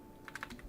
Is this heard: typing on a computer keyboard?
yes